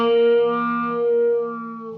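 A held electric guitar note passed through a phaser pedal, ringing out smoothly with a soft, slowly sweeping tone as it gradually fades, no voices over it.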